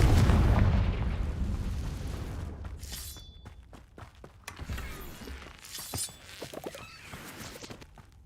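Bombarda and Confringo spell explosions in the Hogwarts Legacy video game, opening with a loud blast and rumbling decay, then a series of sharper bursts, cracks and shattering debris.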